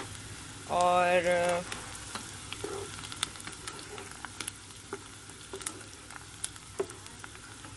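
Cumin seeds drop into hot oil for a mixed vegetable sabzi, giving a brief loud sizzle followed by a steady soft frying crackle with scattered pops, while someone briefly speaks.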